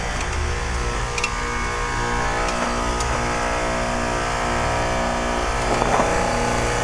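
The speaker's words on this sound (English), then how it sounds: "Carrier heat pump defrosting." A 4-ton 2003 Carrier TECH2000 heat pump defrosting gives off a continuous loud mechanical hum and whoosh with faint scattered ticks, steady and near throughout, with no one speaking.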